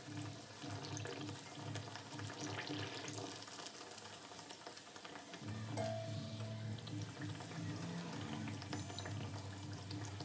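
Warqi puri fries in oil on a low flame, a soft continuous bubbling and crackle at low volume with a faint low hum beneath.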